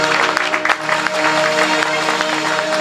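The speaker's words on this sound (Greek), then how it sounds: "Ένα χειροκρότημα για τον Νίκο μπορούμε να έχουμε." Audience clapping at an outdoor Greek music night with keyboards, a dense steady patter of applause over a sustained keyboard tone and low rhythmic beats, fairly loud and continuous throughout.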